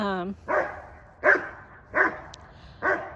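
A voice speaks briefly, then a dog barks four times at a steady pace, each bark sharp and fairly close.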